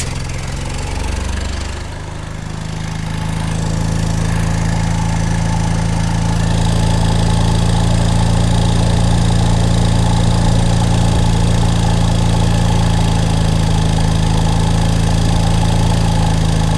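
An old air compressor engine starts up and runs unloaded with a steady, close, even chugging that settles into a constant drone.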